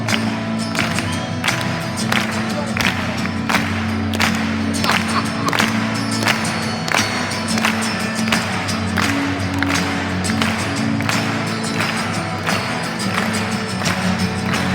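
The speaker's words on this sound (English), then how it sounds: "Come on, clap your hands." A large seminar crowd of entrepreneurs in Cracow claps along in a steady rhythmic beat over music, the evenly spaced claps repeating throughout.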